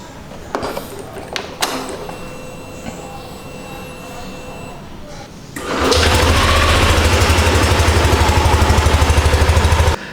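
A new scooter engine idles and then runs steadily, starting with clicks and handling noises and settling into a loud, even, smooth hum for the second half.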